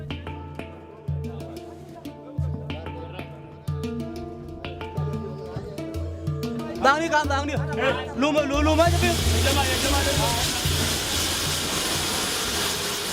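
Military helicopter engines in South Sudan whine and rise in pitch, building into a loud, steady turbine roar with broad hissing noise.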